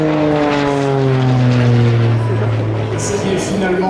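A Beechcraft Bonanza propeller plane flies aerobatic figures at a seaplane gathering in Biscarrosse, its loud droning engine shifting pitch downward as it passes close, with a voice speaking over it.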